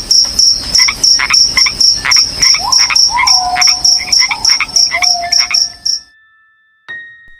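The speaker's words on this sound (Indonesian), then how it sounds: "digantikan suara jangkrik dan angin malam" Crickets chirp in a night scene, a fast steady pulsing trill repeating loudly for about six seconds alongside croaking, then cutting off into near silence with a faint tone and a brief click.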